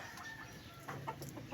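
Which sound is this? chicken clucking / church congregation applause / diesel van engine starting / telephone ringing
chicken clucking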